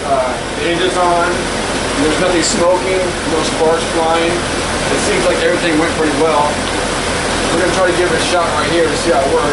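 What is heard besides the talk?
Jeep TJ engine running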